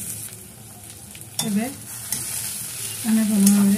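Fish head curry with mixed vegetables being stirred in a pan, with a low background sizzle broken by two louder spatula scrapes through the thick mixture, close up and without speech.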